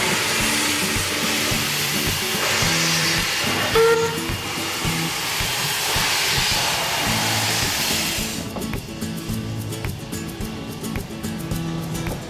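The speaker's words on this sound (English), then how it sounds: "Today we are travelling on a special double-headed train service from Port Augusta to Quorn." A double-headed steam train on the Pichi Richi Railway between Port Augusta and Quorn rumbles and hisses loudly and continuously, with a rhythmic chugging beat and a steady rush of steam.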